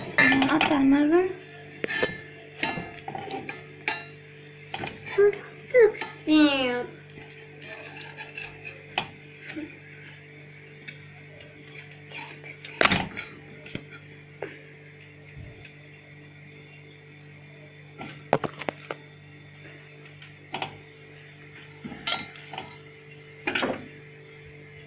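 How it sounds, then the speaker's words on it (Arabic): In a home kitchen, a knife cuts malban (Turkish delight) into cubes, producing scattered sharp clinks and taps of metal on a tray or dish. The hits are spread across the whole stretch over a steady low hum, with someone talking at times. "انا هنقطع الملبن، هنقطع الملبن"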